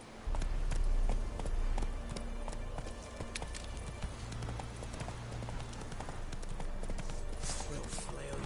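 Roach the horse gallops in The Witcher 3, its hooves clip-clopping in a quick, steady rhythm close by. Faint battle sounds sit in the background.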